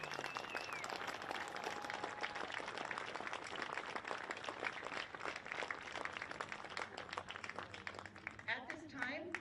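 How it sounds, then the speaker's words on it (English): A crowd at a Legion baseball game applauds Special Olympics athletes. The dense clapping is steady for most of the stretch, with a voice talking over it, and thins toward the end. "If everyone could please give them a round of applause."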